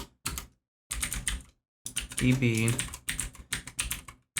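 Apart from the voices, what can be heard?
typing on a computer keyboard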